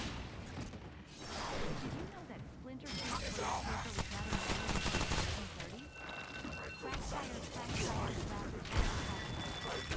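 Video game slug gun fires in rapid bursts of sharp cracks and impacts, loud and dense over about ten seconds, with people talking over them.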